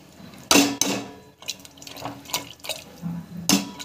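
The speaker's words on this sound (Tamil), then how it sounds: "தண்ணி ஆட் பண்ணிக்கணும்." Water poured into a cooking pan while sautéing: irregular splashes and pouring bursts with short gaps between them, close and fairly loud, with no voices.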